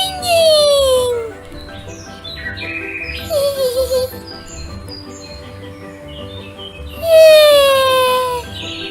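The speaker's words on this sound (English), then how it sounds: "Oh, birds" Cartoon birds chirp and warble in bright, rising-and-falling whistled phrases, with one burst at the start, a shorter chirpy passage in the middle and another loud burst near the end, over a soft musical backdrop with no speech.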